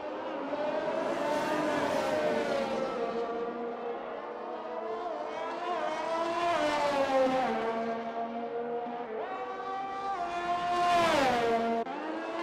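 A racing car in a sim racing game at Imola screams through its gears, the engine note rising and dropping in repeated sweeps as it accelerates and brakes, loud and continuous.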